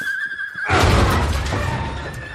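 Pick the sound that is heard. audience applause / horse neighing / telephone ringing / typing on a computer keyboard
horse neighing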